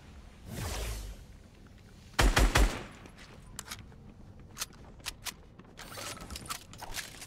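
Rapid SMG fire in Fortnite Chapter 4 Season 1, a tight loud burst of several quick shots followed by scattered single cracks and another burst, with whooshing game effects around them.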